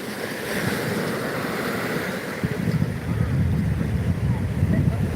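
Sea waves wash onto Old Digha beach in a steady broad roar mixed with heavy wind noise on the microphone, continuous and loud.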